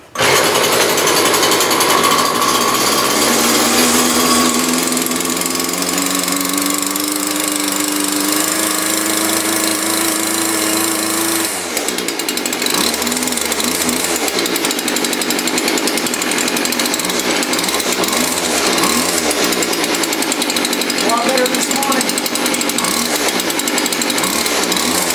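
Two-stroke weed eater string trimmer engine runs loud and close, a buzzing rattle that rises in pitch early on, then holds a steady rough idle.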